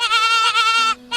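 Injured baby goat bleating, a loud, close, wavering cry in two drawn-out calls with a third beginning.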